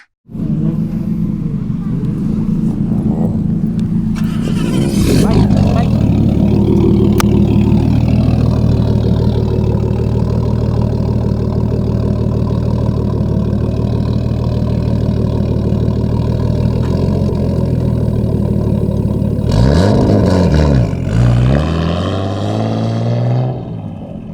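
A Nissan C33 Laurel drift car's engine rumbles loudly through its exhaust, idling deep and steady with a couple of revs near the start and end.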